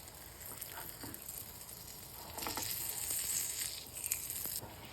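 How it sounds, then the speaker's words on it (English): Beaten egg mixture for a Pakistani-style vegetable omelette fries in a pan over medium-low heat, with a steady close sizzle and intermittent scraping strokes along the edges, no talking. "Keep scraping the edges during the cooking."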